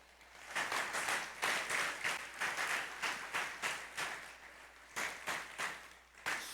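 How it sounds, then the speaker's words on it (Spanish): In church, a congregation claps in rhythmic unison, loud regular pulses of applause from many hands, briefly pausing before resuming. "¿Alguien quiere darle un aplauso a Cristo?"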